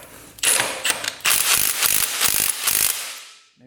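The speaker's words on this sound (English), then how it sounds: "Let's get that nut off there." A ratchet on an ATV works a nut loose in several quick bursts of sharp, close clicking, with short pauses between them before it rings off.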